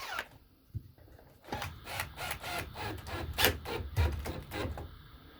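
A screw being tightened into a wall plug in brick, close-up ratcheting clicks and grinding turns in a steady repeating rhythm, moderately quiet.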